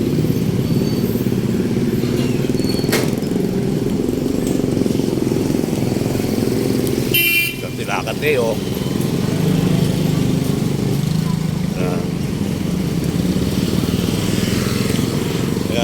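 Jeepney engines start and run in a queue at a transport strike in Pandacan, a constant mid-distance rumble with a brief clatter midway; someone speaks briefly over the engines.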